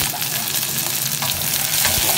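Onion and bitter gourd stir-frying in a hot pan, a loud, steady sizzle broken by scraping stirs, close up and with no voices.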